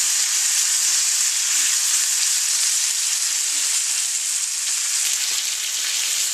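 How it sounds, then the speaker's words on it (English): A chuck roast sears in hot bacon fat, giving a loud, steady, hissing sizzle that holds evenly from start to finish with no voices over it. "Cooking in bacon fat."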